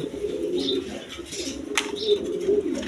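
A pair of Rasgolla pigeons coo in continuous low, rolling burbles close by, steady and moderately loud, with little else around.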